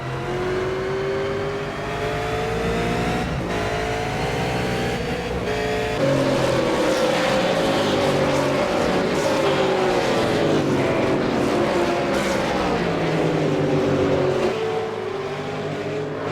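V8 Supercars racing at Donington Park: loud race engines rev hard and shift through gears as several cars exit a chicane, with steady engine roar and rising, overlapping pitches across the whole stretch.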